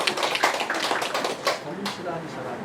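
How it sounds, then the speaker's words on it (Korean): Parents at a community meeting with the Sejong mayor in Sodam-dong break into a brief, dense burst of clapping that fills the room, mixed with voices. "박수 한번 쳐보세요."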